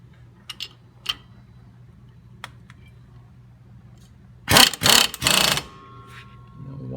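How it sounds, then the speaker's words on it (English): Three loud, short bursts from a Chicago Pneumatic air impact gun working wheel lug nuts, with clicks and quiet shop ambience before them and a hiss after. "You want to tone it down a little bit with the impact gun."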